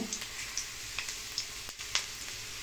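Ginger frying in a little oil gives a quiet, steady sizzle broken by scattered sharp pops and crackles.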